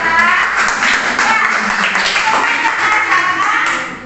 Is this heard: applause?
yes